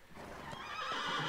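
A horse in the Tomb Raider video game lets out a brief, close whinny that rises in pitch and swells in loudness over about a second.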